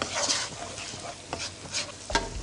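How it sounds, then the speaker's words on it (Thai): Pork stir-fried with sugar until it melts for Korat-style fried noodles: a brief burst of close sizzling with several quick scraping strokes of a spatula across the pan. "ผัดให้น้ำตาลละลายก่อนนะครับ"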